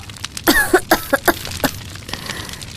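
A string of sharp coughs, about six in quick succession, close by, over a faint background hiss, from someone in a smoke-filled house with burnt food in the kitchen.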